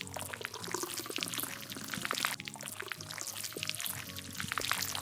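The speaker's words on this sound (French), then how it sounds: "Maintenant, j'ai plus qu'à les verser, plus qu'à mettre dans des verres" Blended drink poured from a blender jug into glasses, a steady liquid pour with light splashing and clinking running continuously for several seconds at close range.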